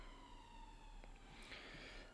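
A distant ambulance siren passes outside, a faint steady wail held under a quiet room hum with no talking.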